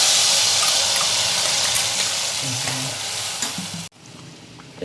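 A loud, steady hiss and crackle of blended onion chutney poured into hot oil, continuous for several seconds before it suddenly drops to a quieter sizzle.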